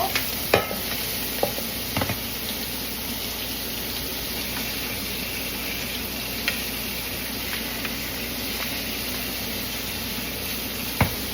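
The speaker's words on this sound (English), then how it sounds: "Add a little butter and baste these as well." Steak and scallops sizzle steadily in a hot pan as butter is basted over them, a continuous crackling fry with occasional soft clinks of a utensil and no talk.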